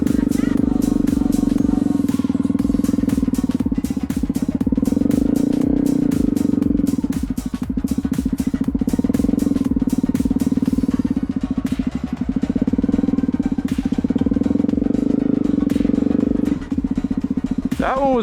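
A Honda CRF250L motorcycle rides around a parking lot with a loud, continuous engine drone that rises and falls as the throttle changes, recorded close by.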